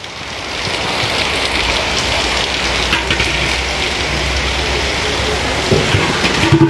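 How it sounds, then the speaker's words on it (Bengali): Heavy rain falls steadily in Malaysia in the late afternoon, a dense, continuous hiss that holds at an even, fairly loud level throughout, with a few louder patters near the end. "মালয়েশিয়াতে এখন প্রচুর বৃষ্টি হইতাছে"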